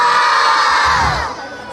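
Massed children at an outdoor record-breaking event in Dharmasraya, Sumatra, shout a long, loud O together, the roar holding steady then fading away.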